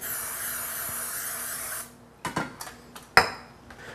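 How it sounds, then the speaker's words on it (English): Can of Pam cooking spray hissing into a bowl for a turkey pot pie, one steady spray lasting nearly two seconds, followed by a few light clinks and taps of kitchenware. "spray it down in our bowl here."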